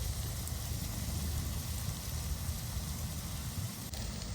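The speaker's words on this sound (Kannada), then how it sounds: "ಚೆನ್ನಾಗಿ ಫ್ರೈ ಮಾಡ್ಕೊಳ್ಳೋಣ ಕರಿಬೇವು" Curry leaves fry in a pan for village-style fish egg burji, making a steady, dense, close sizzling hiss with no clear breaks.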